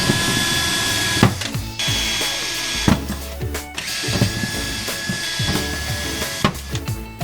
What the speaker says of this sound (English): take my drill with a 5/64 bit and drill these rivets out